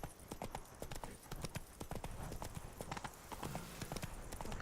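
Roach, a horse in The Witcher 3, gallops with rapid, rhythmic hoofbeats, clip-clopping steadily and close throughout, with brief faint snorts in the mix.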